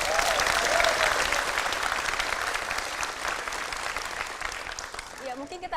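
Audience applause for the SMK Ar-Rauda school team at a televised student competition event, a dense loud burst of clapping from a crowd that holds steady and then fades near the end.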